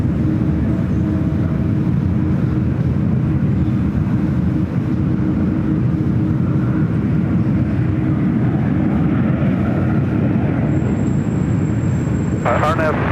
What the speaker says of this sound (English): let's go to the United 777-200 ER in the Star Alliance livery